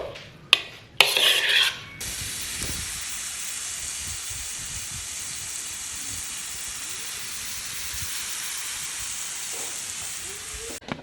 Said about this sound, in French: je vais remuer tout ça et je vais les faire revenir